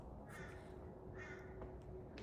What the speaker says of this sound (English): the crows have started singing